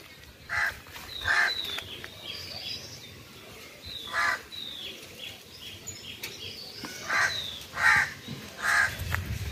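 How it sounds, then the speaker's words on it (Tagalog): Crows caw repeatedly in short bursts, some near and some farther off, over a low outdoor background hum. "Ang tunog ng ibon."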